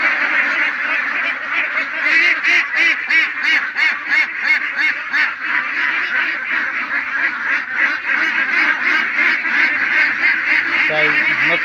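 A large flock of about a thousand farm ducks quacks nonstop up close, a loud, rhythmic, pulsing chorus of overlapping calls.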